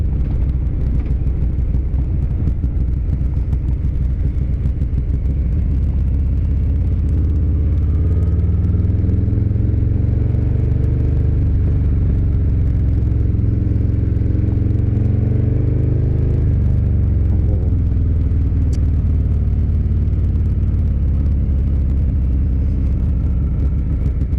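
A sport-modified Harley-Davidson Softail Low Rider S motorcycle is ridden, its deep engine rumble loud and continuous throughout, with the pitch rising and falling as the throttle changes.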